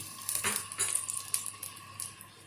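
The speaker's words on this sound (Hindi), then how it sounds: "जो मैंने अदरक लहसुन बचाया था तो वो मैं इसमें ऐड कर रही हूँ। इसको सौटे करूंगी" Ginger and garlic sautéed in a pan for a stuffed capsicum and tomato gravy, with a stirring spoon clinking against the metal, soft sizzling underneath and a steady hum, close and fairly quiet.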